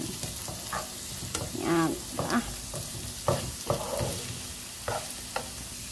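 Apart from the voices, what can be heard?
sautéing carrots in a pan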